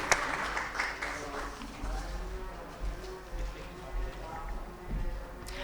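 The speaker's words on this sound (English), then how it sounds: "Huge round of applause for all the stellar work that they have been doing." A ceremony audience at the India CSR Awards applauds award winners, producing a dense, steady wash of clapping with a low rumble underneath that holds at an even level throughout.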